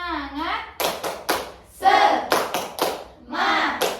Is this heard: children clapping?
yes